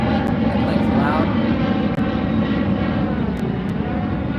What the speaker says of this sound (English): Excuse the airplane. Airplane's loud.